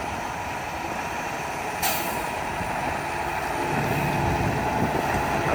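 A four-wheel-drive truck labours while its wheels slip, its engine droning steadily under a sudden hiss of released air, then straining louder and rougher toward the end, close by with no talk.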